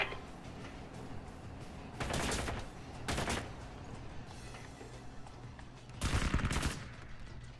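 Sniper rifle fire in the tactical shooter Ground Branch cracks out in a few separate bursts, each a sharp report with a brief rolling echo, heard at moderate distance over a quiet ambient background.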